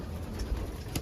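A single pigeon coos briefly at close range over a steady low background hum, one soft throaty call lasting about a second.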